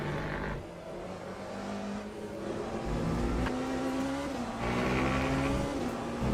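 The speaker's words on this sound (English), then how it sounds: "The Porsche does sound good" A Porsche race car in the sim racing game Le Mans Ultimate roars with a loud, steady engine note that climbs and drops through gear changes, heard close from the cockpit, with no talk.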